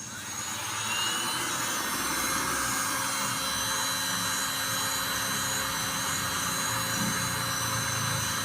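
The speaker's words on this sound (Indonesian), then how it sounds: "Jadi saya menggunakan hair dryer ini untuk memanaskan ini." Hair dryer blowing hot air onto a pond tarpaulin, a loud continuous whirring motor and rushing airflow starting within the first second and holding steady to the end, no speech.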